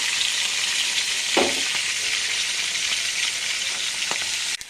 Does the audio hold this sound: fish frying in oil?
yes